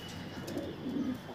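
A pigeon close by gives low, soft coos in a couple of short rolling phrases, with faint background noise around it.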